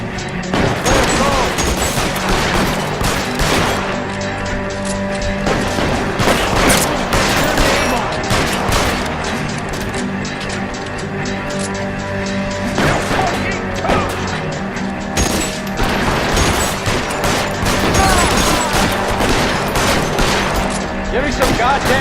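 Dense shootout gunfire from the video game L.A. Noire, a loud, continuous barrage of overlapping shots and impacts with scattered voices under the din.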